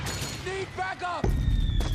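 Suppressing gunfire in Metal Gear Solid 4 erupts as a heavy low rumble of shots partway through, following a shouted exchange of voices over the battle noise.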